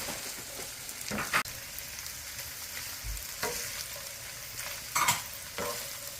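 Celery stir-fried in a pan for Filipino pancit sizzles steadily, with sharp scraping stir strokes now and then over the constant frying hiss.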